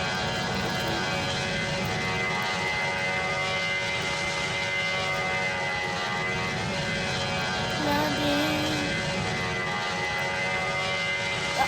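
An Airbus A320 in a flight simulator game takes off with a continuous, even roar of engine drone and steady tonal hum over nearly twelve seconds, with no voices.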